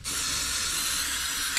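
An aerosol spray paint can hisses continuously and close up as it coats a firewall template for a C1100 International pickup truck build, one steady bright burst with no speech.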